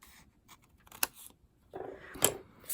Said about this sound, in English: We're just cutting along that score line to cut our diamond flaps.